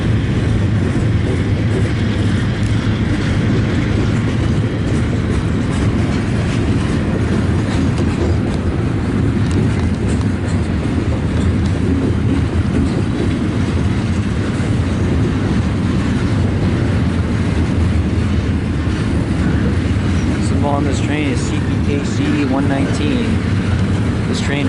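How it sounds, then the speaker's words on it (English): Freight train 119, running from Montreal's St. Luc Yard to Edmonton, Alberta, rolls past with a steady loud rumble and clatter that fills the whole stretch, with faint talk beneath it. "This train originates in Montreal, Quebec in the St. Luc Yard and terminates out west in Edmonton, Alberta"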